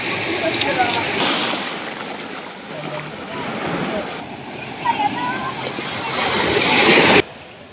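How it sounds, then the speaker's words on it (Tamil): Rough sea at Pamban, churned up by days of heavy rain, roars continuously as waves break and crash against the shore, a loud broadband wash of surf that swells and surges throughout with no voices. "பாம்பனில் கடந்த சில நாட்களாக பெய்து வரும் கனமழையால் தெற்குவாடி பகுதியில் கடல் சீற்றத்துடன் காணப்படுகிறது."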